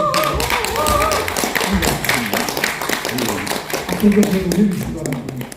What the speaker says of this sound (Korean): 그 열정에 대해서 한번 박수를 보내주습니다